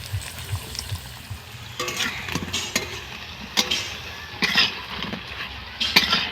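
Raw banana chops fry in oil on a clay stove, bubbling steadily under intermittent clinks and scrapes of a utensil stirring the pan.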